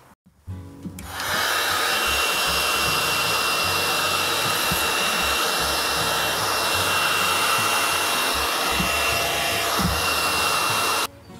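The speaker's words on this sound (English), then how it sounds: "And then heat that up with a hot air gun." A hot air gun runs steadily for about ten seconds, heating heat shrink tubing on an oil line repair for a Triumph Bonneville motorcycle, with a loud, continuous blowing hiss that starts and stops cleanly.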